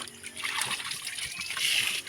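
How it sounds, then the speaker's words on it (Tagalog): Water splashing and trickling as hands are washed while preparing dried fish, a close, bright, uneven run of splatters and dribbles that grows a little louder toward the end. "Hugas ng kamay."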